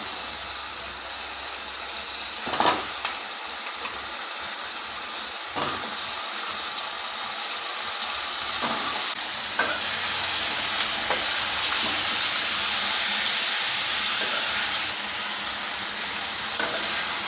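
Eggplant, drumstick and potato pieces sizzle and fry steadily in a pan while being stirred for a dried anchovy fish curry, a dense continuous hiss with occasional scraping knocks of the spoon and no talking.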